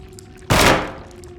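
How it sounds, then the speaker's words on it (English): A single loud gunshot from the Alone in the Dark survival horror game, a sharp broadband blast that rings out and decays over about a second against a quiet low hum, with no talking. "I shot at it and it didn't do anything"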